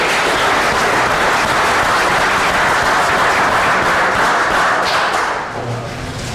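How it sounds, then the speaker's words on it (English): Sustained crowd applause at a city board meeting for a man named Randy: loud, dense clapping from a roomful of people that tapers slightly toward the end. "One more round of applause for Randy."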